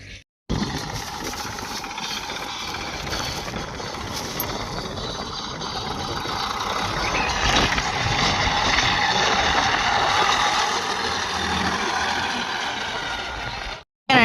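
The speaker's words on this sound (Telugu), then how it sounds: "అలాగా ట్రాక్టర్ పోయి వచ్చింది." A tractor engine runs steadily on a paddy field, a loud continuous mechanical drone that swells slightly toward the middle and holds without pause for most of the stretch, with no voices.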